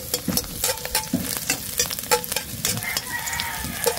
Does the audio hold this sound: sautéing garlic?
yes